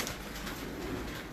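Pigeons from a flying squad coo softly and close by, a short low murmur of calls with no talking.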